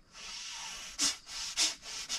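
Someone breathes in quick, noisy huffs, a few sharp panting bursts like an imitation of a dog's breath, close and fairly quiet.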